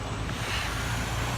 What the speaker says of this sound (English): Big trucks.